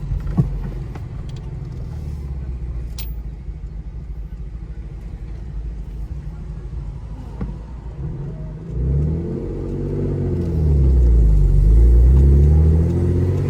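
A manual Lexus IS300 with an unlocked ECU pulls away from low RPM on a slight incline, a quiet interior rumble that swells into a deeper, louder engine growl as it gains speed.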